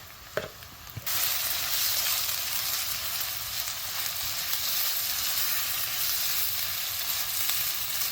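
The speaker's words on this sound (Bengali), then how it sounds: "এখন এটাকে কিছুক্ষণ ভুনা করে নিব যাতে মশলার গন্ধগুলো চলে যায়।" Onion fries with ground turmeric, garlic paste, chili and coriander in a pan for squid bhuna, a brief clatter and stir at the start, then a loud continuous sizzle.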